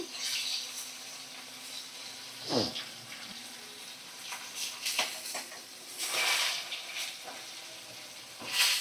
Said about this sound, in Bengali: আর এক সাইডটা ভালো করে ভাজা করে নিচ্ছি